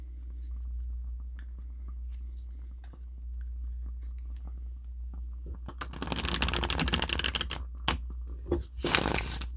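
Quiet rustling, then several bursts of crisp riffling and fluttering as a deck of tarot cards is shuffled close by, with brief pauses between bursts.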